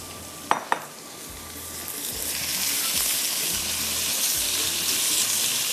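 Minced meat hitting a hot pan and stir-frying, with two sharp clinks at the start and then a rising, steady sizzle that fills the rest of the clip.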